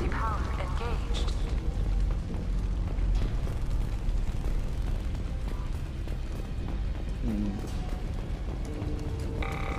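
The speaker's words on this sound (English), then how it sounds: "Looks like he got caught in the explosion." Explosion from the Mass Effect 2 video game, a dense rumbling roar with booming low end that fills the whole stretch, layered with game sound effects and brief voices.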